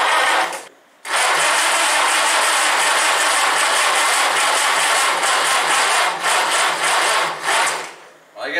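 A 1952 Case VAC tractor engine is cranked by its starter, a loud, steady whirring grind that stops briefly near the start, then churns on for about seven seconds with slight dips.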